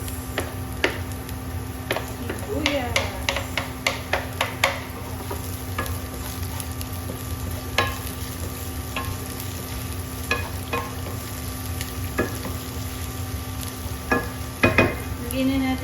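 Onions sizzle steadily in a hot pan while palabok sauce is cooked, with a spatula stirring and tapping against the pan in irregular clicks over the continuous frying hiss.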